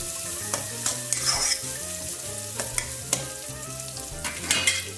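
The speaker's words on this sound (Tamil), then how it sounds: "थोड़ा सा फ्राई होने के लिए, प्याज फ्राई होने के लिए" Onions fry in a pan for mutton biryani, with a steady sizzle broken by repeated scraping stir strokes and light clatter from the utensil, and no voices.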